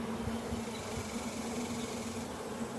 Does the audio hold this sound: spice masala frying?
no